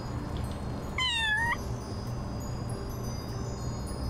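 A single cat meow in the Little Kitty, Big City video game, a brief rising and falling call that stands out clearly against a quiet ambient city background.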